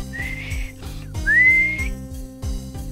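A person whistles with the mouth in the Polda game, two sustained rising tones over a rhythmic background music loop.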